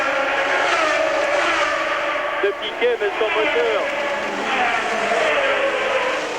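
Nelson Piquet's Formula 1 car at the 1981 Monaco Grand Prix, a high-pitched racing engine wailing steadily under continuous commentary.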